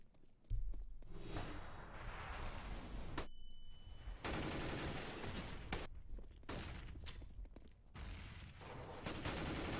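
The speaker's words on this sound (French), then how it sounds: "Il va tomber sous les balles de FNS." Bursts of automatic gunfire in a Counter-Strike pro league match at Mirage or Overpass, rapid rattling volleys and single shots separated by short pauses, fairly faint in the mix.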